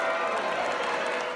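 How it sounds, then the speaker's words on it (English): Audience at a Broadway performance of the musical Hamilton cheering and booing as Mike Pence arrives, a brief dense crowd roar of mixed voices and clapping heard up close. "Video showing cheering and booing as Pence arrived at Friday night's performance of the hit Broadway musical, Hamilton"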